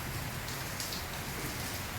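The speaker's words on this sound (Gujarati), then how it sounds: "બહાર વરસાદ પડી રહ્યો છે" Rain just starting to fall outside a home in the afternoon gives a steady, dense, even hiss of drops with no voices.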